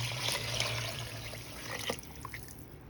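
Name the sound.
pouring water into a pot of beans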